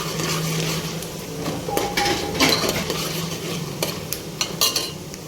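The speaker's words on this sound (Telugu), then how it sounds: "పల్లీలు కొంచెం ఫ్రై కాగానే మినపప్పు వేసుకోవాలి" Peanuts and urad dal fry in a tempering pan with a light sizzle. A spatula stirs with scraping and metallic clinks against the pan, close and fairly quiet.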